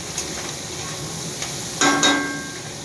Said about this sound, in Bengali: এটা লাল লাল করে একটু ভাজবো।